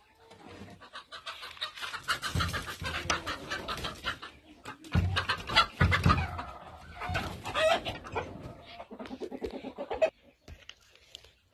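Chickens clucking and a rooster crowing in a farmyard, a steady run of fairly loud overlapping calls that carries on for several seconds.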